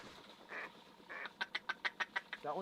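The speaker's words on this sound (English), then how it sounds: "That one just quacked as it went away." A duck quacks as it flies off over a standing cornfield, first with a couple of softer calls, then a rapid run of about eight clear, fairly close quacks, ending in a raspier call.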